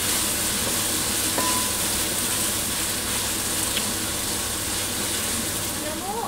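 Gongura chicken curry being stirred and fried in oil, a steady, close sizzle with scraping stir sounds running throughout, loud and continuous.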